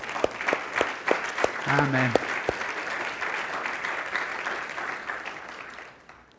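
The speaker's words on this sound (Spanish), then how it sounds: "Dale un aplauso al Señor" A church congregation applauds during a Spanish-language sermon, with sharp individual claps over a broad wash of clapping that fades out toward the end, and a brief spoken interjection partway through.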